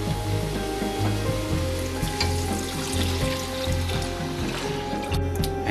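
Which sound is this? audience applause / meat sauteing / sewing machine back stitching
meat sauteing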